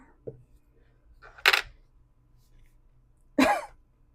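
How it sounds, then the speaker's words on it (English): Two sharp coughs, well spaced, with a small throat sound before them, close and fairly loud against a quiet, low hum. "And I am coughing."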